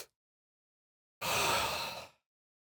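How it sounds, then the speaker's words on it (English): One long, deep, breathy inhalation, taken as part of a breathing exercise for ulcerative colitis pain, stands alone in near silence after a brief cut-off breath at the start. "I would just take a deep breath in,"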